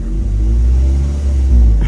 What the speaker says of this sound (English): now all 4 cylinders are misfiring